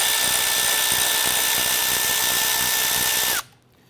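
A power drill or impact driver whirs steadily on a 10mm bolt at the bottom of a Jeep Grand Cherokee grille support, running loud and close for over three seconds before stopping abruptly.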